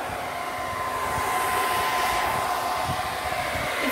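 A hair drying bonnet blows hot air in a steady, loud, unbroken whoosh with a faint hum running through it, close and constant with no talk.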